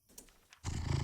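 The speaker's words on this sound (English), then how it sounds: "just listen to that purr" In the video game Cabernet, a cat's low purr swells up suddenly after a few faint soft sounds and continues as a close, rumbling drone.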